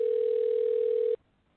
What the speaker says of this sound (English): Right, I hear it ringing.